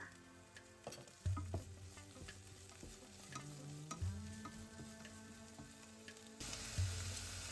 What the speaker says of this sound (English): Now add 6 green chilli slit, 2 tablespoons of coriander leaf and 2 tablespoons of mint leaf. Saute it well.